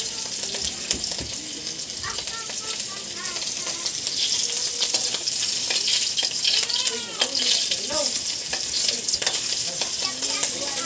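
Pieces of dried fish (tuyo) fry in a pan over fairly high heat, giving a steady close sizzle with scattered crackles and pops, along with faint clinks and movement, and no talk.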